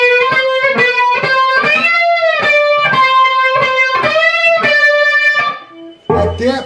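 A distorted electric guitar plays a rising walk-up lick, a run of about ten loud, bent and sustained notes in quick succession, ending with a short muted strum.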